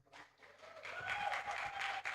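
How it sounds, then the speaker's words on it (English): An audience at a conference award presentation claps. The applause swells from scattered claps into a full, fairly close round that holds for about two seconds, with no clear speech over it. "You guys should clap for that"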